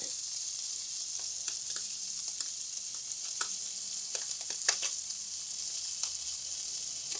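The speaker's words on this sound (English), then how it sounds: "I'm going to let it cook on that side, and then I'm going to turn it over to crisp up the skin just a little more." Salmon fries skin-side down in a pan with a steady close hiss and scattered small pops and crackles of hot fat, heard alone without speech.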